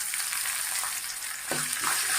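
Tempering sizzles steadily in a hot pan as finely chopped coriander goes in for tomato pappu, a continuous bright frying hiss with a slight surge near the end.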